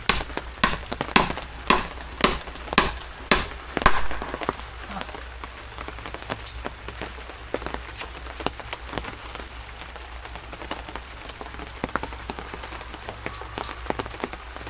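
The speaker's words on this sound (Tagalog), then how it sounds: "Grabe, lakas talaga ng ulan." Heavy rain falls steadily while a roof is being put over a kiln, a dense constant patter broken early on by a run of about eight sharp, regular knocks or chops, close and loud.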